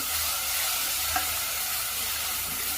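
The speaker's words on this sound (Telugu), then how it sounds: "ఈ మసాలాని ఈ కుక్కర్లోకి వేసుకోవాలి వేసుకొని ఇలా ఫ్రై చేసుకోవాలి" Masala sizzles steadily as it fries in a pressure cooker over a medium flame for stuffed brinjal curry, with a single brief clink of the stirring spoon partway through.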